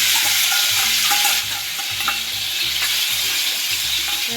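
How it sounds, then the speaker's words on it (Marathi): Biscuits fry in a pan with a loud, steady sizzle close by, and repeated stirring scrapes recur at a regular rhythm, with no talk. "बिस्किट फ्राय करून घेते"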